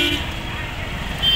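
Road traffic on the Govardhan parikrama route near Mathura, heard from a rickshaw: a steady low rumble of vehicles with short, sharp horn toots at the very start and again at the end.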